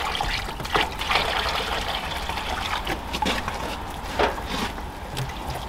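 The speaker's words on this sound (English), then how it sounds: "in goes the water from the stove" Hot water from a stove is poured into a plastic bucket, giving a steady, close gushing and filling sound with a few splashy surges and no talking.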